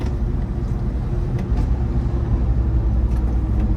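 Ford Endeavour 3.0 litre diesel engine pulling hard above 3000 RPM in fifth gear, a low, steady engine drone with road noise heard from inside the cabin.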